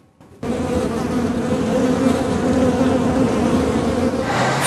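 Honeybees at an urban hive give a dense, continuous loud buzz that starts abruptly and holds steady, close to the swarm, with no talk.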